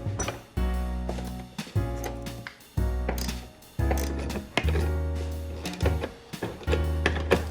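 Screws and nuts on a Can-Am Defender side-by-side windshield are tightened down, with repeated bursts of ratcheting, clicking tool noise separated by brief pauses.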